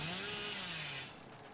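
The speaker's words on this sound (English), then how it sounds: "it is a faster chainsaw revving speed" A chainsaw revs at a fast speed in the video game Dead by Daylight, a loud, steady buzzing whine with a pitch that rises and then dips, fading slightly at the end.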